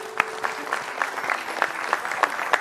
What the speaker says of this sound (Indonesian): Kita kasih tepuk tangan dong untuk Anabel.